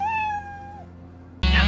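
A domestic cat gives a single drawn-out meow that falls in pitch, followed by a short quiet gap and then an abrupt loud burst of broadband noise.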